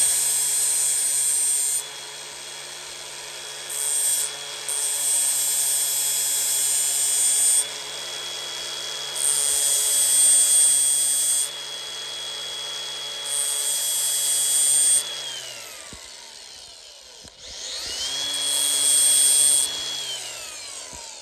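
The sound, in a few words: grinder with flap disc beveling metal ends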